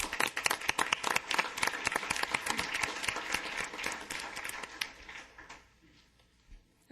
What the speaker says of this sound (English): let's give a round of applause for our fire department